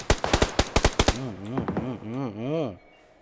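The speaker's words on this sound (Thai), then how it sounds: "ได้ยินเสียง AWM" A rapid burst of sharp AWM sniper rifle gunshots in PUBG Lite rings out, followed by warbling, tonal electronic game sounds that fade away.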